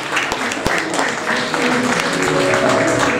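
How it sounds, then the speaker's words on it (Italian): An audience at an Italian stage performance gives a special round of applause for Franco Petrone, a steady loud wash of clapping with crowd noise underneath. "applauso speciale a Franco Petrone a Sfugliatella"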